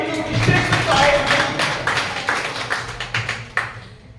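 An audience claps at a real estate group speech, a loud wash of applause that peaks early and then thins into scattered individual claps, with a voice speaking over it.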